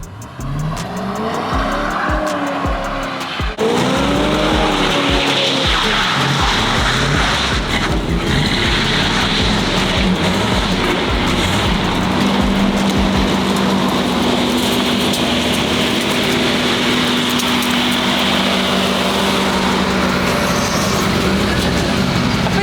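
Supercharged 1962 bagged Chevy C10 Stepside and a 454 SS truck doing burnouts, engines roaring loud and close with sustained tire squeal and skidding for most of the stretch after a brief revving start.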